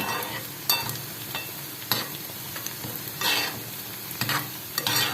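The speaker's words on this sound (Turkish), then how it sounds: "İndi də soğanı qoruram." Onions frying in a pan, a steady sizzle broken by repeated bursts of stirring and scraping, close and fairly loud with no talking.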